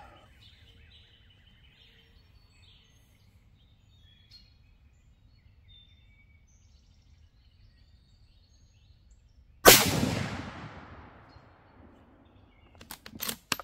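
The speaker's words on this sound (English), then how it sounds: "Final shot of the 80 grain" A single sharp rifle gunshot from a Savage Axis II heavy-barrel 6mm ARC firing an 80 grain load, a loud crack with a decaying outdoor echo after a long quiet stretch, followed by a few faint clicks near the end.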